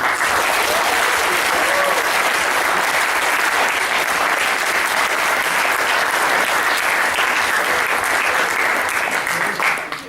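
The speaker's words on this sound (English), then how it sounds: "I'd like, a round of applause for both of our teams." Loud, sustained applause from an audience after a debate between two teams, a dense continuous wash of clapping for about ten seconds, dropping off abruptly at the end.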